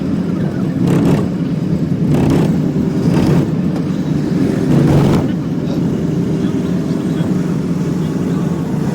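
A bus rumbles along the road from Hyderabad to Kadapa, its engine droning steadily from inside the cabin, with a few brief louder whooshes of passing traffic.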